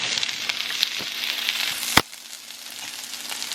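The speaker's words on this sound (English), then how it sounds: "I'm doing some fried potatoes here." Three fresh diced potatoes fry in a home pan with a quiet, steady crackling sizzle and scattered pops, one sharp clatter near the middle, and no talk.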